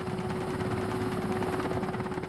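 A Tigre military helicopter in flight, a steady dense rotor and engine roar with a rapid, even blade chop and a faint tonal whine, loud and continuous with no voices.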